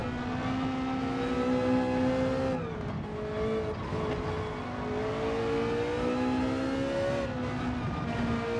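GT3 race car engine in the Gran Turismo 7 video game, held at a high, steady drone with pitch rising and dipping through gear changes, loud and continuous with no one speaking.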